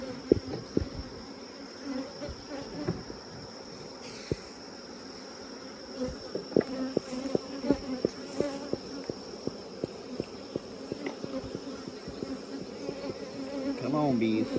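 Honeybees buzzing around an open beehive during a smoky hive inspection, a dense steady drone with many sharp close passes and wing thrums, growing louder toward the end.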